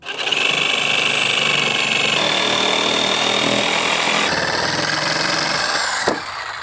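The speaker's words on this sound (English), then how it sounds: "I'm going to use a jigsaw to complete my cut." A jigsaw cuts an opening for an LED light fixture after corner holes were drilled, giving a loud continuous buzzing saw whine that shifts pitch a few times as the cut proceeds, ending with a brief knock.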